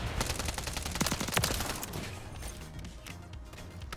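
Rapid automatic gunfire from the Striker in Warzone, a dense continuous burst of close shots that gradually thins into a softer rattle and echoing tail.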